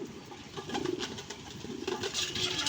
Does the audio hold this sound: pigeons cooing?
yes